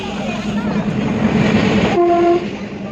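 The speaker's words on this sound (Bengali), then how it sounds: "ফাইনালি ট্রেন চলে আসলো এক ঘন্টা ওয়েট করার পরে" A train pulls into a railway station with a loud, rumbling roll, and a long, steady horn blast sounds, ending abruptly near the close.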